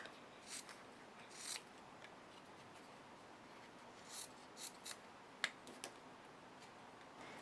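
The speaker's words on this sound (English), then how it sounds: "Alright, so I'll trim this off." Scissors trimming Hero Arts cardstock at a crafting desk: several short, quiet snips and paper rustles spaced across a quiet room, with one sharper click partway through and no talking.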